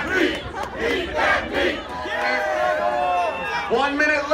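Onlookers at the Feast of St. Anthony sausage eating contest shout and cheer in a dense, rising roar that carries steadily throughout, with an announcer talking over the crowd.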